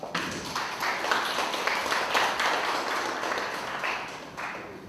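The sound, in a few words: audience applause welcoming a speaker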